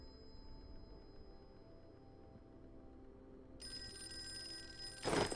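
An electronic telephone ring in the Call of Cthulhu video game starts partway through over a faint hum of background tones, followed by a brief noisy burst near the end.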